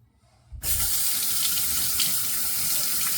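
Running tap water pours steadily under a SUPPLY SE Max safety razor being rinsed in a sink, switching on abruptly after a brief quiet moment and then rushing loudly and evenly, with no talking.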